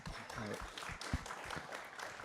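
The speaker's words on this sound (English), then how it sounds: "let's give a round of applause for our speakers." Audience at a Canadian national security conference applauding its speakers, quiet dense clapping from a crowd with faint voices mixed in, heard from some distance.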